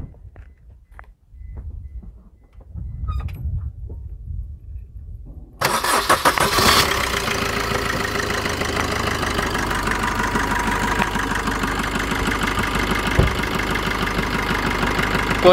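A Maruti Vitara Brezza diesel engine, just after cleaning of its EGR valve, cranks and catches after quiet mechanical handling noises, then settles into a loud, steady, slightly clattering idle close by.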